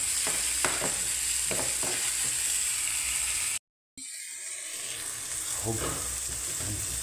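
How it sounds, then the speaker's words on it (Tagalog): Tomato and moringa pods being stirred in a sizzling pan, a steady fry with scraping strokes, a brief silent gap midway, then sizzling resumes; a voice speaks briefly. "Haluin na natin."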